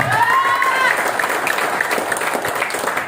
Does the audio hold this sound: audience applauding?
yes